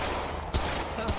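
Gunfire in GTA roleplay on a Chicago street, two short sharp bursts cracking out over dense, noisy background chatter and ambience.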